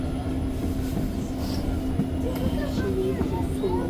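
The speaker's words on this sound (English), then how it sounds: "There's another train heading towards Deux-Montagnes." An REM train passes heading towards Deux-Montagnes on the Deux-Montagnes Branch, a steady loud rumble with rail hum, faint squeal and clatter throughout.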